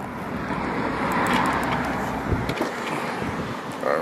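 A Porsche GT3 engine idling as it warms up, a steady low rumble mixed with outdoor road and wind noise, with a couple of small knocks near the end.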